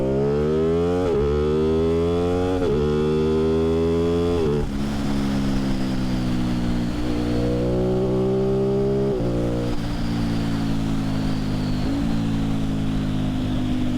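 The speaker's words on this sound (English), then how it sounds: "nice throaty snarl from the Teentop exhaust" An Aprilia Tuono 660 fitted with a Teentop exhaust and H-pipe is ridden hard and close, its engine climbing through repeated rising pulls, with a crisp drop at each upshift and a steady, loud drone throughout.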